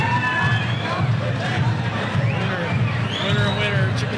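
A boxing crowd at an All Star Boxing event cheers and shouts in a loud, constant roar between rounds. Whistles and raised voices rise over the din, and an announcer's voice runs beneath it.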